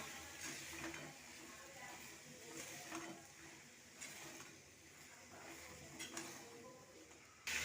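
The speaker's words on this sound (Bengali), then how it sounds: "এরপরে ধুয়ে রাখা আলু কুমড়োটা দিয়ে দেবো ছোলা দিয়ে বানাচ্ছি আর একটু ছোলা দিয়ে দেবো এরপরে নাড়িয়ে নেবো" Potato, pumpkin and chickpeas are stirred in a pan for a Bengali chana dal and pumpkin dish, giving a steady close scraping and faint sizzling with soft rattles and clatter throughout, and no talking.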